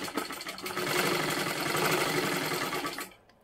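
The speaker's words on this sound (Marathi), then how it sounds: "आता इथे सुद्धा एक शिलाई मारून घ्या वरच्या बाजूला" Sewing machine running a steady line of stitches across blouse fabric for about three seconds, a fast even whirring rattle, close and moderately loud, stopping sharply at the end.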